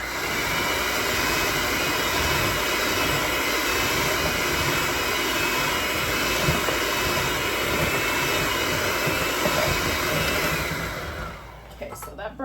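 An electric hand mixer beats powdered sugar on its lowest setting, a steady, loud motor whir that runs evenly and then cuts off near the end.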